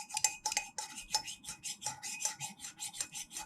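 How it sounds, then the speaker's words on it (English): Chopsticks scrape and clink rhythmically against the side of a pot or bowl while swirling egg into egg drop soup, a quick, steady back-and-forth tapping that is close and fairly quiet, with no talk. "go back and forth on the chopsticks with the egg like this"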